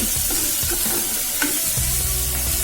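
Shallots sauté with salt in a hot pan, giving a loud continuous sizzle close by, with scraping and knocking from repeated stirring throughout.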